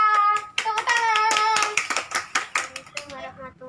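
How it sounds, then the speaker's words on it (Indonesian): In an elementary school classroom, children clap in a rhythmic patterned sequence while chanting along in unison, sharp claps punctuating their voices over a few seconds. "Tepuk tangan."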